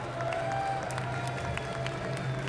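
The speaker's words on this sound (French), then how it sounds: "faut applaudir là" Moderate applause from a convention crowd at Japan Expo, scattered clapping and faint cheers under a steady hum, fairly distant and brief.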